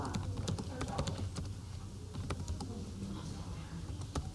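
Someone types on a computer keyboard during a math lesson, with irregular clusters of light clicks and key taps and faint talking around them.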